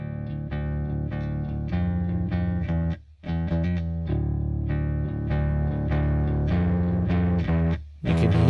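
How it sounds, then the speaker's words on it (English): Bass line pushed through extreme distortion and blended in parallel, giving a thick, gritty, buzzing tone that plays continuously with only brief gaps, loud and close. "That is obviously extreme distortion there."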